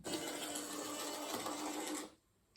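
Hornby model train locomotive motor whirring steadily at full speed during DCC auto calibration, a close, continuous mechanical buzz that cuts off abruptly near the end.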